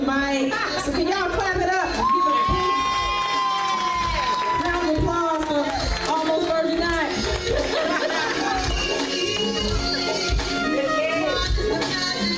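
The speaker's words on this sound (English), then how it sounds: "So can y'all clap it up? Give a big round of applause" An audience cheers and whoops for a poet at a live poetry event, dense crowd noise of shouts and chatter running steadily throughout, with no clear clapping rhythm standing out.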